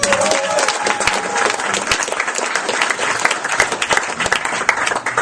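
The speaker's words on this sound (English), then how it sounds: "Big, big round of applause." Sustained applause from an audience at a weight-loss victory event, dense steady clapping filling the room at close range for several seconds, with no talk over it.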